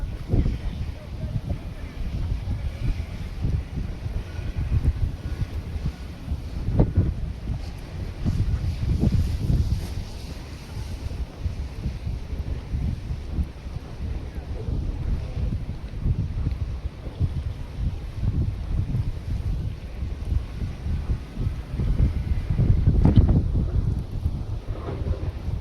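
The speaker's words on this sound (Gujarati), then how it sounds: "ફાઇનલી જો બોટ નીકળે છે ફિશિંગ કરવા માટે" A fishing boat sets out from the shore, its low rumble running steadily beneath strong gusting wind that buffets the microphone throughout.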